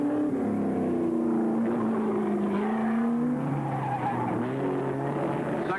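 Porsche Carrera 6 race cars roar past at the 1966 Sebring 12-hour race, engines loud and continuous with shifting pitch sweeps as the cars pass and overtake one another, no talking.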